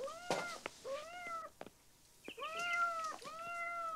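A cat meows several times indoors, clear drawn-out meows spaced across a few seconds with brief pauses between them, fairly close and alone.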